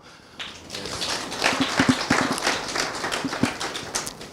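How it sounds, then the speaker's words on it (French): An audience claps for project leaders at a launch event, with scattered applause building after a quiet start and continuing unevenly with sharp individual claps standing out. "Et je vous demande de les applaudir."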